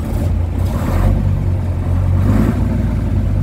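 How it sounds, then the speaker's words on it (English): A 1961 Foden four-wheel tipper truck's diesel engine runs and revs nearby, a loud steady rumble with a couple of brief swells in pitch, heard alone without talk. "Motor sounds nice and sweet."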